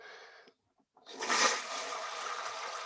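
Water rushes into a toilet tank during a gasket replacement, starting with a brief hiss, a short pause, then a louder steady gushing fill that continues close by and fairly quiet.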